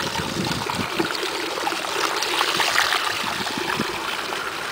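Maple sap pours and trickles steadily into a carboy, a continuous splashing gurgle with no talking.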